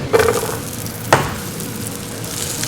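Slices of pork belly (samgyeopsal) sizzle steadily on a grill at a 24-hour restaurant, with two brief utensil clatters close by over the continuous frying hiss.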